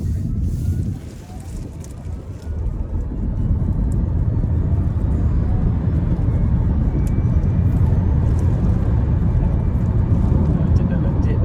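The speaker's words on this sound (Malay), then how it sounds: "Rasanya bunyi motor ni dia punya Kuat" Honda e:N1 electric car accelerating, a loud, low steady rumble of motor and road noise with a rising whine like a jet cabin, building after a brief dip and holding steady.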